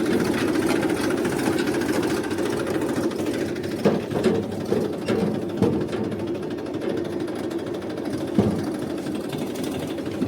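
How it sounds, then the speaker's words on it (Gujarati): A tractor engine runs nearby with a steady low rattling chug, punctuated by a few sharper knocks and clanks, with no one talking. "ભાઈ ટ્રેક્ટર આવી ગયું છે"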